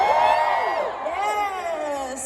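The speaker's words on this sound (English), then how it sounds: "Can we have a bigger cheer?" An audience at a London Comic Con voice acting panel cheers and whoops in a hall, a loud sustained roar of many voices rising and falling over a couple of seconds.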